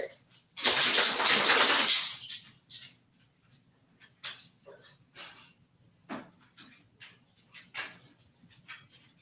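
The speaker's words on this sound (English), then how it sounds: "my dog is doing some crazy stuff in her crate right now" A dog moving around inside her crate: a long, loud rattling scuffle at the start, then scattered short clinks, taps and scrapes with quiet gaps between them.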